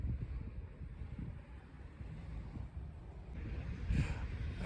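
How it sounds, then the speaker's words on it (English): Steady wind in South Iceland buffets the microphone with a low rumbling roar, gusting a little stronger near the end. "If you can't tell, it was a little bit windy"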